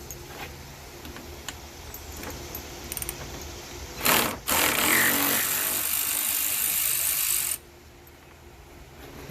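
A 13mm screw comes out of the radiator area of a 2005 Dodge Durango with a quick series of ratchet clicks, then a loud, steady whirr of a power tool running for about three seconds before stopping.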